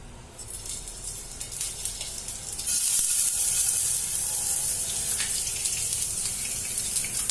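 Eggs frying in a little oil in a pan on a gas stove, a steady hissing sizzle that swells louder partway through and holds, close and without speech.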